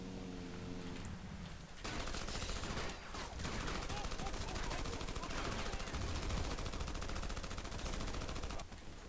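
Rapid gunfire rattles through a Battlefield Heroes match, a brief lull giving way to long, dense bursts of automatic shots that continue almost unbroken, fairly close and loud.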